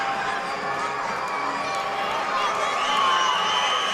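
A hockey crowd at a charity game between Nassau County PBA and FDNY makes noise, a steady wash of cheering and whooping that swells slightly toward the end, with talk mixed in.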